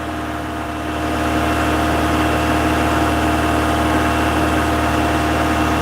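A Toyota MR2 engine, about 40 years old, idles steadily at a slightly raised, even pitch, close up, with a constant droning hum and faint vibration, no voices present.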